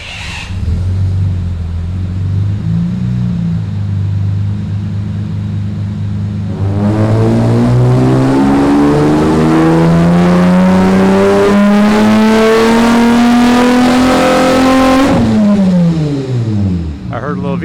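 A supercharged Honda Civic EG with a J-series V6 swap accelerates down a drag strip, its engine note climbing steadily through the revs before cutting off sharply and winding down, loud and close throughout.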